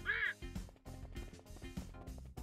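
Cartoonish duck quacks from the video game Chicken Bomb: one squawky quack at the start, followed by dense game music and effects that keep going without a break.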